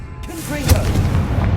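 A Confringo spell blast in the Hogwarts Legacy video game: a loud booming burst with a crackling whoosh, rising near the middle and trailing into a rumbling tail, with a voice faintly present.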